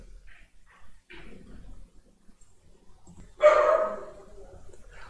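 Neighbor's dogs bark in short, scattered bursts at a distance at a visitor, ending with one louder, sharper bark near the end.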